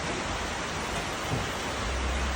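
Steady rain falls outdoors on a changeable summer day in Ukraine, a dense, continuous hiss of fairly loud, even intensity with no pauses and no one speaking.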